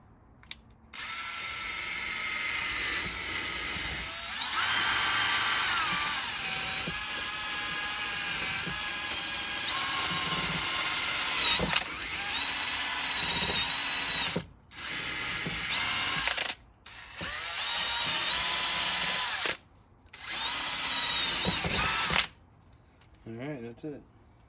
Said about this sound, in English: and I'm going to wire wheel the